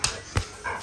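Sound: dog barking

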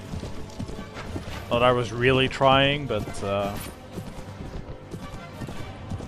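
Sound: horse galloping in the video game Mount & Blade: Warband

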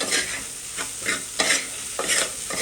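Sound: mixing seasoned puffed rice (murmura) for bhel

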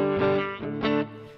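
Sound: electric guitar through reverb pedal

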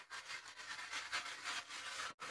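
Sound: pumice stone scrubbing a Blackstone griddle

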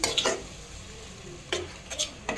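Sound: stirring and cooking tomato masala for eggplant olo

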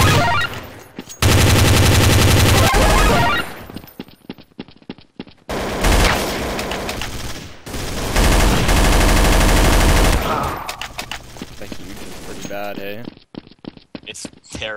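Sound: gunfire in video game Counter-Strike: Source

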